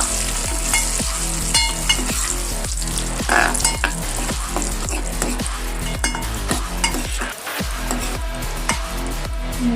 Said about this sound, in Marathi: तळून घ्यायचे तुपामध्ये।